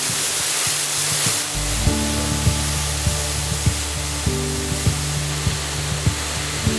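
A waterfall in the Yorkshire Dales pours with a constant broadband rush of falling water, close and fairly loud, with faint regular clicks underneath and no voices.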